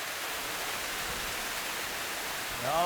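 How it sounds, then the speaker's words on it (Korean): Water rushes steadily down a valley stream as a constant, full hiss, with a short voice sounding right at the end. "맑고 시원한 바람과 투명하게 쏟아지는 물소리에 이끌려 계곡에 성큼"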